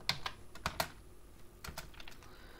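Typing on a computer keyboard while entering CSS selectors: quiet, close key clicks in irregular short bursts with brief pauses, and no talking over it.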